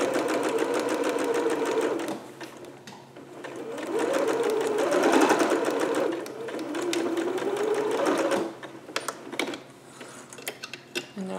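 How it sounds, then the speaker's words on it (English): A sewing machine stitches a garment lining in a steady, close whir that runs in long continuous bursts, then breaks into short start-stop runs near the end, with no voices. "stitching on top of that, back stitching"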